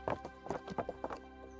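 A horse's hooves clop in a few quick bursts in the video game Kingdom Come: Deliverance, with a short whinny mixed in, fairly close and clear against a faint steady background hum.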